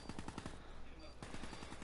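Rapid bursts of automatic gunfire in a 3v3 online shooter match on the Fringe map ring out in quick repeated volleys, a short pause, then another burst, loud and continuous.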